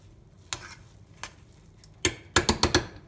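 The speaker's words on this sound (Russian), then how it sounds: "Перемешиваем." Buckwheat porridge is stirred in a pot, with a spoon knocking against the sides in scattered scrapes and then a quick cluster of sharp clicks, close and clear.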